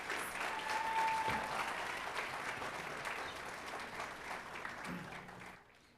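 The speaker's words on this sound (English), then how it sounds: "Can you please give them a round of applause?" Steady applause from an audience at a ceremony, sustained clapping that slowly fades toward the end.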